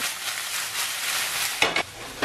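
Shallots and chili fry in olive oil in a hot pan, a steady loud sizzle with a few stirring scrapes near the end.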